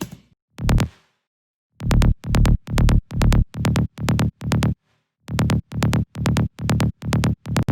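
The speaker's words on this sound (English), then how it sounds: "The first layer is a side trance bass, which is just from Nexus, and it sounds like this" A side trance bass patch from the Nexus synth plays a lone stab, then after a pause a steady run of short, evenly spaced punchy notes, loud and dry with no voices.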